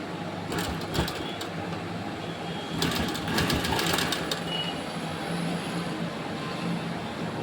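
A sewing machine stitching a tucked blouse with a belt, running in a steady close mechanical whir with faster rattling bursts partway through and no talking.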